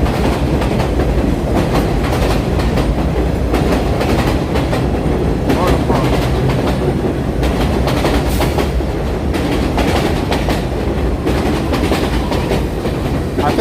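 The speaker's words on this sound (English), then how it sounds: "that's a train that was scheduled 12 minutes after that" A train runs along the rails in Brooklyn, New York, close and loud with steady rumble and rhythmic clickety-clack of wheels over rail joints, continuous for the whole stretch.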